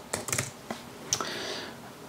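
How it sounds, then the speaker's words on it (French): Password typed on a computer keyboard, a quick close burst of key clicks followed by a couple of firmer separate taps, no voices. "donc on va taper un mot de passe"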